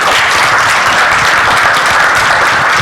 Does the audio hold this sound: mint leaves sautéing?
no